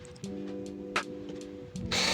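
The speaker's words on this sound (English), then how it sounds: "for the video to make this, I'm going to use a drill." A power drill runs in short bursts while a base is adjusted for a hydraulic brake build, each whir steady and close with brief pauses between, and a louder burst at the end.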